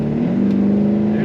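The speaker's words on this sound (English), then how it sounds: "There's that kick down." A 1983 Chevrolet Silverado K10 4x4 drones with a steady engine tone that climbs slightly as the transmission kicks down, loud and close with cabin road noise underneath.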